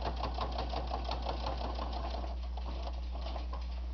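A sewing machine stitches through thick bowl cozy fabric with a half-inch seam, its needle chattering in a steady, close, continuous rhythm that runs without pause over a low motor hum.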